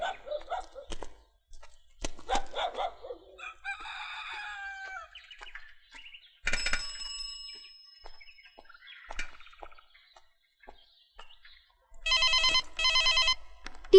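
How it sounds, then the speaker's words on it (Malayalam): An old-style telephone bell rings near the end in two sharp, loud trilling bursts, after scattered quieter household sounds and rooster-like calls. "Teacher the phone."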